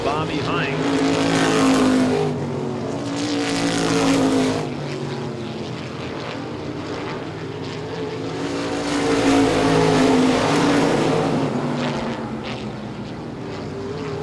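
Modified race cars circle the Baer Field oval, engines swelling loud as the pack passes and fading between laps in a broad rhythmic drone, with a commentator's voice running underneath.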